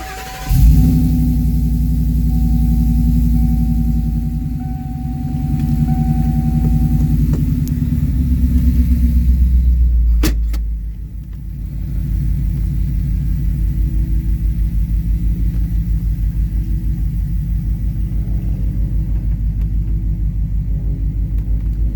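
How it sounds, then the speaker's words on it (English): A 1994 Ford Lightning pickup with a Coyote engine swap rumbles steadily on a test drive, a deep loud drone that shifts pitch partway through and then settles into a lower, even cruise. "we'll go take it for a quick test drive again and just make sure everything's working right"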